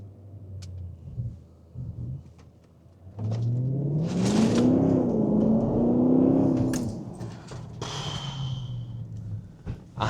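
Porsche Cayenne engine pulling hard on a spirited drive, a low rumble swelling into a rising, sustained roar of acceleration before easing back, with loose items rattling inside the cabin.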